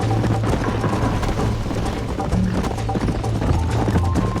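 Galloping horse hooves in the video game Red Dead Redemption pound in a fast, steady rhythm, close and continuous, with soft tonal music beneath them.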